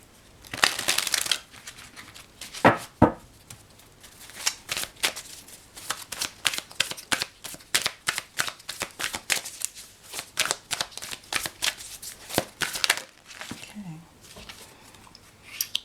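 Ramses Tarot cards are shuffled in a long run of quick, crisp riffles and slaps, close and fairly quiet, with a few soft pauses between bursts.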